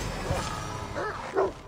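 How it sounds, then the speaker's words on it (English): A dog in Assassin's Creed Valhalla, in a freezing northern setting, gives a few short yelping barks and whimpers in quick succession, close and moderately loud. "Oh no, this poor dog."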